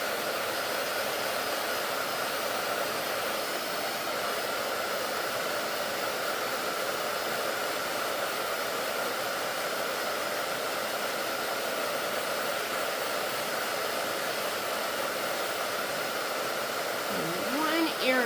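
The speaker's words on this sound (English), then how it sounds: "I cannot hold this blow dryer with my right hand" A handheld blow dryer whirs steadily and close for a long stretch, drying chalk paint on a clipboard, with a constant airy hiss that holds level until a brief rustle at the very end.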